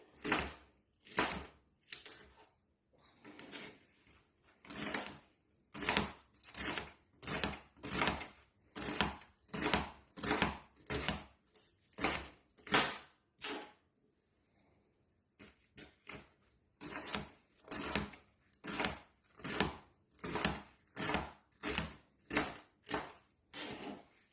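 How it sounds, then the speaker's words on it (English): A knife roughly chopping vegetables for kimchi on a board, with loud, regular, close thuds at about one per second, a brief pause midway, then the steady chopping resumes. "I'm just going to chop it up and pop it into a bowl"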